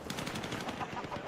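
Machine gun fire in the Battlefield 6 beta, a rapid continuous burst of dense, evenly spaced shots at moderate distance with no pause.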